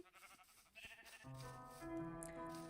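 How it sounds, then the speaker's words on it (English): A faint sheep bleat from the Minecraft video game rises quietly out of low background noise and holds as a drawn-out tonal call in the second half. "Sheep."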